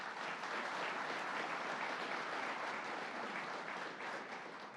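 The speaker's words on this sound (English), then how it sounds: "let's give them another big round of applause" A large audience at a governor's announcement event applauds college partners, a dense, sustained roar of clapping at steady volume that tapers slightly toward the end.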